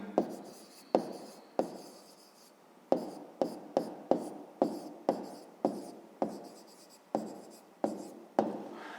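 Pen scratching on paper as an answer is written by hand, a series of short strokes with brief pauses between them, close and quiet, with no speech.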